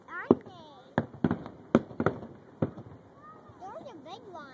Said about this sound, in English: Ethan, what do you think of those fireworks?